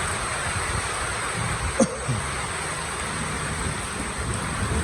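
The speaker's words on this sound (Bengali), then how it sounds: "আজকে বৃষ্টি নামলো। অবশেষে 1 মাস পরে বৃষ্টি হলো।" Steady rain falls on a cattle farm after a month-long dry spell, a constant close hiss with a single brief knock partway through.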